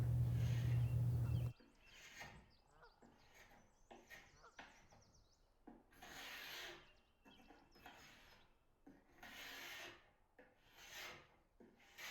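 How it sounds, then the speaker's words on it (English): A hand scraper pulls finish off a wooden chest in repeated slow strokes, each a dry rasping scrape close by, after a brief loud burst at the start. "I just opened up the top of the chest so that I could scrape closer to the edge."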